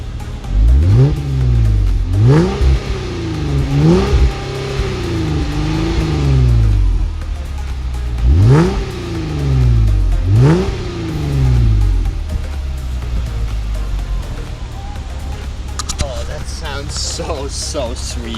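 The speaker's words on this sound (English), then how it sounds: "we're gonna give it a couple revs and see what the difference is." A 2018 Jeep Wrangler JK fitted with a new MagnaFlow exhaust revs repeatedly outdoors, several sharp rising blips that fall back to idle, loud and close, with brief talk in between.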